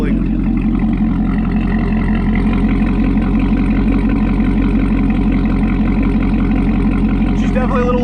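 A C7 Corvette ZR1 engine with an AWE exhaust idles loudly and steadily up close, a deep continuous rumble filling the whole stretch, with a brief change near the end.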